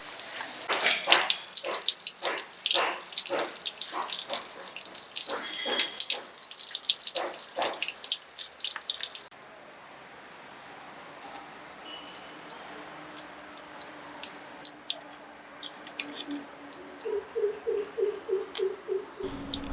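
Water gushes and splashes out of a domestic electric water pump's pipe into a pot in uneven bursts, then thins to faint trickles with birds chirping in the background.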